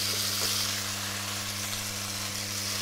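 Beef sears in about three tablespoons of hot oil in a pan, making a steady, fairly quiet sizzle over a low constant hum. No one speaks.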